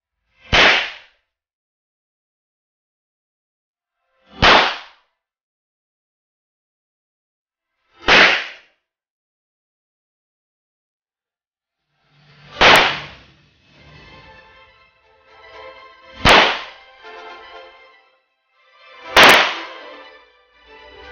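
Six sharp gunshots ring out at an outdoor gun range in Lipa, Batangas, as shooters fire at yellow targets. The first three are evenly spaced about four seconds apart, and the last three come with a brief echoing tail and faint background activity.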